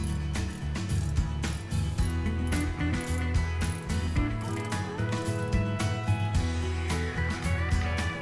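Ratchet clicking in steady rapid bursts while bolts are tightened on the valve cover and its front linkage of a Mazda Miata, close and fairly loud over a busy shop background.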